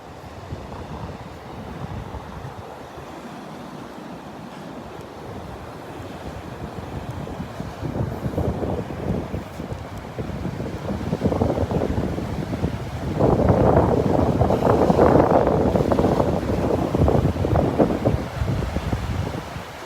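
Wind gusts across a beach on Vanderbilt Beach with ocean surf rolling in, a steady loud roar with buffeting wind noise on the microphone that swells stronger toward the end.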